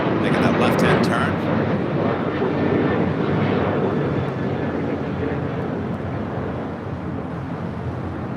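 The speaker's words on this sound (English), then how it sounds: "Korean Air Flight 11, the A380 Super coming in from Seoul, making that left-hand turn." A Korean Air Airbus A380 arriving from Seoul at LAX makes a left-hand turn, its engines a broad, steady roar that fades slightly, with a few brief radio-like clicks early on.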